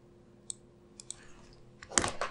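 Light clicks tap on a computer keyboard, a few sparse keystrokes first and then a quicker, louder cluster of typing, quiet and close.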